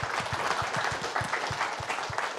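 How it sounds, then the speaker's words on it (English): Steady audience applause at a cybersecurity conference main stage in Newcastle, with rapid, evenly spread hand claps at moderate distance, continuous throughout. "Another round of applause, first of all."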